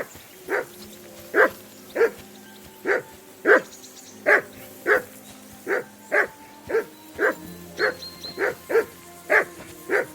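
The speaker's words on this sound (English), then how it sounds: "Call off that damn dog" A dog barks steadily and repeatedly in Kingdom Come Deliverance 2, about a dozen sharp, evenly spaced barks at moderate distance over a low background hum.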